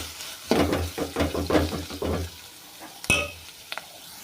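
A spoon scrapes and stirs ginger garlic paste and turmeric in a hot pan with oil for Telangana-style okra pulusu. A quick run of rhythmic scraping strokes over a light sizzle is followed by a sharp metallic clink and a few softer taps.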